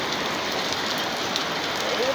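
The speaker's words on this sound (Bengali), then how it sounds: "প্রচুর বৃষ্টি।" Heavy rain falls steadily on a surface outside a home, a dense, continuous hiss with no breaks, drumming close by with no talk over it.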